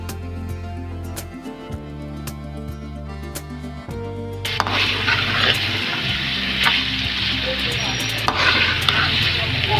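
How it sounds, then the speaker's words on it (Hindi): Potatoes with coriander stirred and fried in a pan, with steady scraping and clinking through the first half, then a louder broadband sizzle taking over partway through, close and continuous, no talking. "ये देखिए आलू में सब धनिया डाल दें, अच्छे से मिक्स कर लें।"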